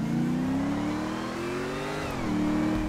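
A BMW's engine in Grand Theft Auto V revs in a continuous, loud whine that climbs steadily, dips briefly, then holds, with no voices over it.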